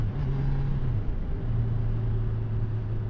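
A 2018 Honda CB1000R four-cylinder motorcycle engine hums smoothly under way, a steady low drone with a gentle dip and rise in pitch, heard close up from the rider's position without talking.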